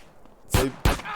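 Three sharp, loud gunshots in GTA, spaced unevenly with short gaps between them, following a quiet lead-in.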